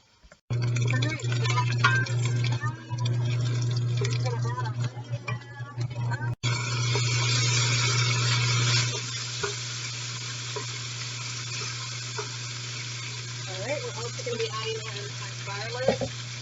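Cheddar toasts fry and crisp in a pan with a steady, close sizzle that runs loud for several seconds, then settles to a softer hiss with occasional light clinks and handling noises.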